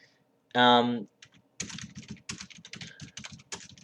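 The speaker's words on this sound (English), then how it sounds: "I'm just going to quickly type this" Quick typing on a computer keyboard, bursts of close, irregular key clicks that follow a short tonal sound, with no speech.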